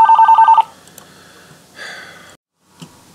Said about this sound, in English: This phone's been ringing off the hook.